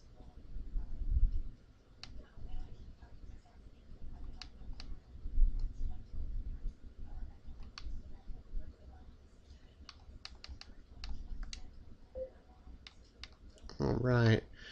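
Sharp, sparse computer mouse clicks sound close by over a low hum and a quiet voice talking, and a brief rapid rattle comes near the end.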